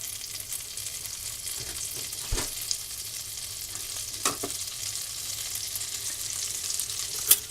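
A stick of butter melting in a hot pan for fettuccine Alfredo, giving a soft, steady sizzle with a few faint clicks and bumps, no talking.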